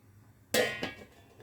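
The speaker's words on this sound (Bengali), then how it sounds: "আমি ঢেকে দিচ্ছি।" A lid set down onto a cooking pan on the stove, giving a sharp metallic clink followed by a second softer knock as it settles, close and fairly quiet.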